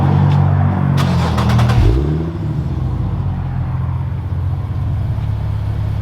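Infiniti G37 sedan with a Motordyne Y-pipe and cat-back exhaust, very loud: a sharp rev climbs and drops in the first two seconds, then settles into a deep, steady idle rumble.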